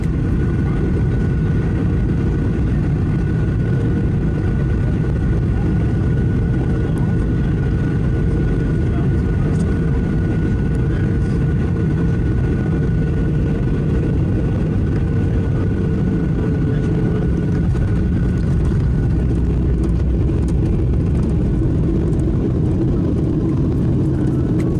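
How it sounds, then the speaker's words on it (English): Steady, loud engine roar heard from inside the cabin of a United Airlines plane on landing approach into San Francisco over the bay, a constant low drone lasting the whole time with little change. "So now we're slowly going into the approach here on San Francisco"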